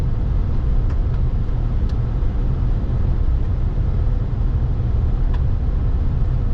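A truck rolls along a dusty dirt road with a constant, heavy low rumble of tires and engine, broken by a few faint ticks and rattles.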